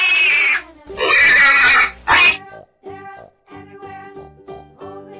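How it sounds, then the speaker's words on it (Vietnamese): A pig oinks in a series of short grunting snorts, several loud bursts at first and then a run of quieter, evenly spaced grunts, close up with no voices. "Con lợn."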